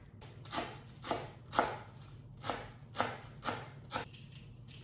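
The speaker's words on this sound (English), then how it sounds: "slice horizontally, and making this kind of strips" Knife slicing vegetables into strips on a cutting board for an Armenian mixed vegetable dish, a series of soft, evenly spaced cuts, about nine in a row, quiet and close.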